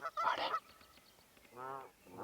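Geese honk on open water in a wild lakeside setting in the morning, a loud cluster of calls followed by a pause and then a long, drawn-out honk, with no talking.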